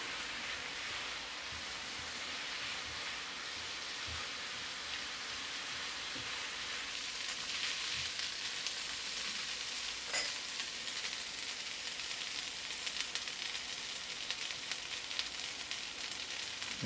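Chinese fried rice with prawns sizzles steadily in a pan as it is stirred, giving a soft, continuous frying hiss with occasional scrapes and clinks of the utensil, fairly quiet and without speech.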